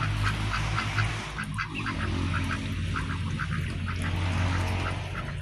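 Many ducks quack together on a duck farm where breeders are kept, a dense, steady chorus of repeated calls close by, set over a constant low background rumble.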